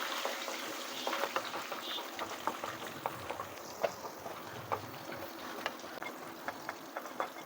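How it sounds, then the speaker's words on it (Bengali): Cashew nuts fry lightly in a little oil, a soft, steady low sizzle with regular faint popping ticks spread evenly across the stretch. "এইবারে আমি এই তেলের মধ্যে কাজু বাদামগুলোকে দিয়ে খুব হালকাভাবে ভেজে নেব।"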